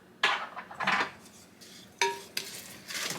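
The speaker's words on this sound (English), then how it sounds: "Then I'm going to mix in my brown sugar." A spoon scrapes and clinks against a bowl while brown sugar is mixed into banana bread batter, a few short close stirring strokes with no talking.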